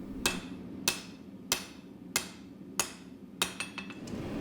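A hammer forging a katana blade strikes metal in a steady series of sharp, ringing blows about every half second, ending in quicker lighter taps, with no talk.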